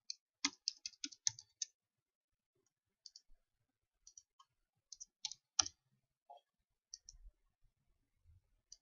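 Quiet typing on a computer keyboard, sparse clusters of light clicks and key taps in irregular bursts with pauses between, no voice.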